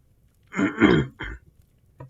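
A single throat clearing in two or three rough, gravelly bursts, close and fairly loud, followed by a faint short catch of breath.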